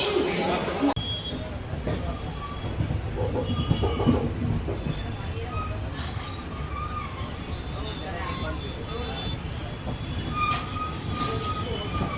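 The Mumbai Kurla Express rolls along the rails on a night journey, with a loud, steady rumble, wheel squeal and clickety-clack heard from on board, and faint voices mixed in.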